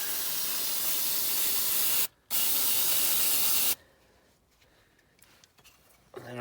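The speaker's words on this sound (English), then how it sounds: "So you want to spray those sensors really good." Aerosol cleaner sprayed liberally onto a dirty mass airflow sensor: two close, loud, steady hissing bursts split by a brief pause, then the hiss stops and only faint handling noise is left.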